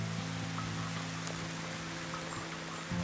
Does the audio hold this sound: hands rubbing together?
no